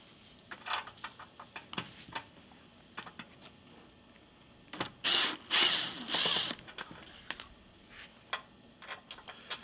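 Screws come out of the second-row bottom cover on a 2000–2002 Tahoe or Yukon, rapid ratcheting clicks and taps in bursts, with a louder whirring stretch midway, close and fairly quiet, no talk.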